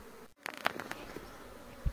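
Swarm of Asian honeybees (Apis cerana indica) settled on a wooden chest, a soft continuous buzzing with a few bees whizzing close in short louder bursts, after a brief handling thump at the start and a low knock near the end.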